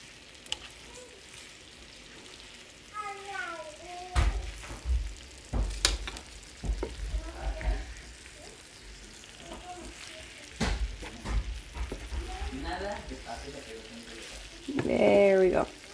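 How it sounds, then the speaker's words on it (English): Asparagus wine sauce is stirred into pasta in a pan on a low electric stove, a soft sizzle with scraping and clinking of utensils, sporadic knocks, and a person talking intermittently over it. "So I'm going to incorporate the sauce with the pasta, mix it all together."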